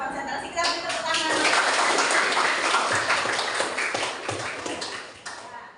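A classroom of students applauds, clapping swelling quickly into a steady patter for several seconds before tapering off, with voices mixed in.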